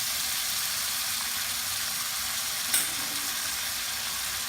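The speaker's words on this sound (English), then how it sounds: "Give it a stir." Salmon belly and vegetables sizzle steadily in a hot pan with hoisin sauce as they are stirred, a constant close frying hiss with one faint clink of the utensil.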